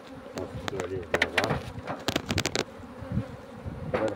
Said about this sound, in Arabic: شوف النحل كتعامل معاه بسهولة، ما كيطورش.